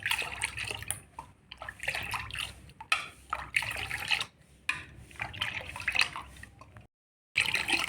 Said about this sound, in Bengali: তো দেখুন হাতা দিয়ে ভালো করে দুধটা ফেনা করে নিয়েছি।